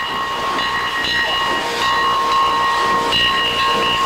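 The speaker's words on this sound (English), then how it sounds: "a real old-fashioned steam engine as it chugs its way through the woods" Old-fashioned steam engine chugging through woods, a steady hissing, whistling rush with tonal steam whine, close and continuous throughout.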